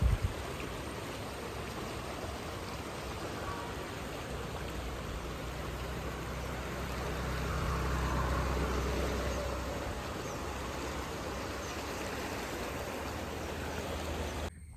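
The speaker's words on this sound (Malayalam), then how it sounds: "വെള്ളത്തിൻ്റെ തള്ള്" A steady rush of flooded river water after heavy rain, a dense continuous roar that swells slightly midway, heard alone without voices.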